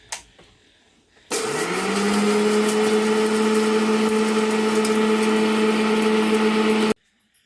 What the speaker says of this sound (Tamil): இதை மட்டும் அரைச்சிட்டு இங்கே இட்லி பொடி எடுத்து இதில் சேர்த்துருவேன்